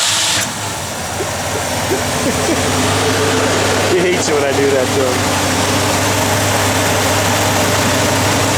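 A 1950 Ford F1 truck engine running at a steady, loud idle with a deep low rumble, someone talking over it.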